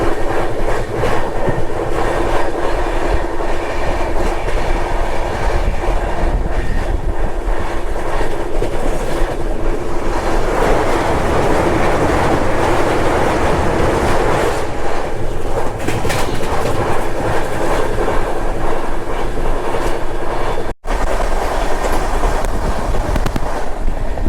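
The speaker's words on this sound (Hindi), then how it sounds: "मुंबई अहमदाबाद वंदे भारत बस हल्की सी मिस हो गई, एनीवेज थोड़ी सी तो कैप्चर हो गई।" Loud, continuous railway rumble from a Mumbai–Ahmedabad Vande Bharat train running on the line, a steady roar of wheels and wind that holds for over twenty seconds with no talk.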